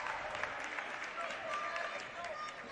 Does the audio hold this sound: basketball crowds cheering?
yes